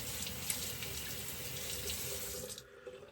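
A water tap runs steadily into a sink to rinse a razor after a shave, a close, even splashing rush that stops abruptly near the end.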